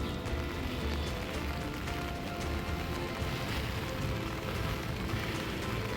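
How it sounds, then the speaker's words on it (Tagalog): Steady, dense rain pours down continuously on a Manila street, a broad even hiss with no pauses and no talking. "Umuulan ngayon, natsyempohan ang ulan."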